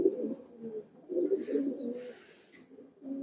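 Soft, low cooing of silver bezi pigeons repeats in several murmuring phrases, with a faint hiss of background noise between calls.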